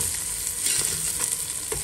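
Shallots sizzle and crackle in hot oil in a cooking pot, the base for chicken porridge, a dense close frying hiss with a few stirring scrapes and no voices.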